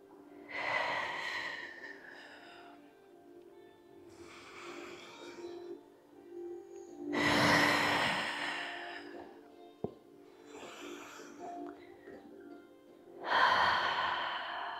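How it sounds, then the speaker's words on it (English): Slow relaxation breathing in a Pilates class: four long audible breath cycles, each a deep inhale followed by a heavy sighing exhale, close and fairly loud with quiet gaps between. "Lots of relaxation breaths."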